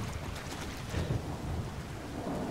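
Thunderstorm in the video game Resident Evil 6 around a cathedral at night: steady heavy rain with a low rumble of thunder swelling in the middle, continuous and fairly close, with no voices.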